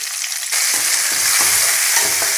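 Spice paste with whole red chillies drops into hot oil in a pan for a no-onion, no-garlic sabji, setting off a sudden loud sizzle that keeps crackling steadily, with no talk.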